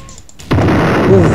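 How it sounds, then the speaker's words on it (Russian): In the Roblox video game, a sudden loud explosion booms after a brief quiet moment, then a heavy roar rolls on and stays strong. "Все, он взрывается!"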